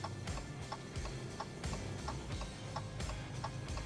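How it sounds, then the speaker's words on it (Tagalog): Quiet, regular ticking of a Dodge Challenger V6's turn signal, about two clicks per second, over a low engine-like rumble in the background. "iba yung tunog ng signal light niya"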